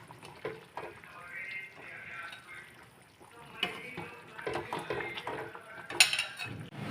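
A pot of fish curry being taken off the stove, with clattering metal pot and utensil knocks, scraping and a few sharp clanks, close and moderately loud, with a voice heard faintly alongside.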